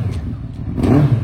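A custom car with a non-original, non-Smart engine revs nearby, giving a loud, rough engine rumble that swells toward the end of a short burst, with no talk.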